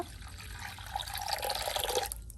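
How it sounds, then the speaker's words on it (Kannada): Water is poured while a homemade Pepsi ice treat is being made, a short splashing trickle lasting about two seconds, fairly close, with no talk. "ನೀರು ಹಾಕುವ"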